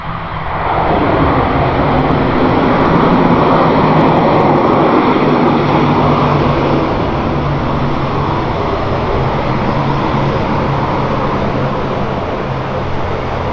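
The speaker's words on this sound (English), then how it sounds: "Gotta love the sound of turboprops." An ATR 42 turboprop on arrival at London City Airport fills the air with a loud, steady propeller and engine drone that rises quickly and holds nearly constant throughout, with no voices.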